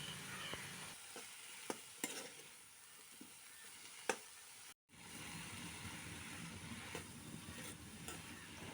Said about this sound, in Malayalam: ഇനി മസാലയും വഴുതനങ്ങയും യോജിച്ച് വരുന്നവരെ നന്നായിട്ടൊന്ന് ഇത് മിക്സ് ചെയ്തെടുക്കാം.